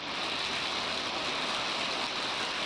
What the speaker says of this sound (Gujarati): આંબેચા અને અવાણિયા સહિતના ગામોમાં વરસાદ વરસ્યો છે